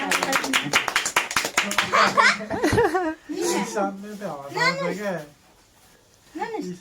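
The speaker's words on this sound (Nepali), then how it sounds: "ताली बजाऊ" Hands clapping at a child's birthday party, a quick run of sharp claps at the start mixed with giggles and a voice urging the child on, then talk continuing.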